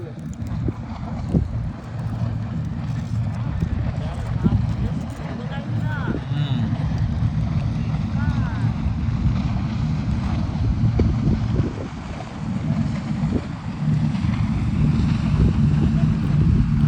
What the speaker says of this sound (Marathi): हे बघा स्पीड बोस्ट